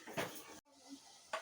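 A metal cooking pot clinks as layers of biryani rice, potato and meat go into it: two or three sharp, close knocks of utensil against the pot, separated by a short hush.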